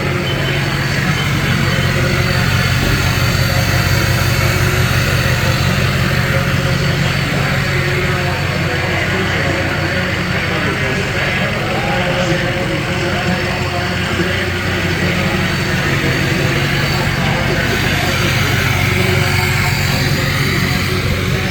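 Turbo diesel King Ranch truck, a Canadian import, running steadily nearby with a constant broadband engine roar and turbo whine throughout, no clear speech over it.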